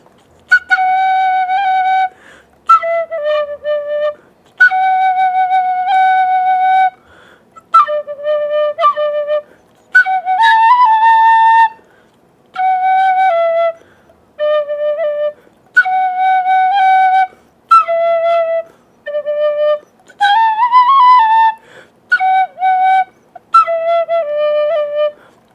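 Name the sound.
tin whistle being played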